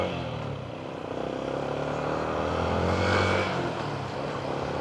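A motorcycle engine idles and runs steadily nearby, a low, rough droning hum that swells slightly and then settles.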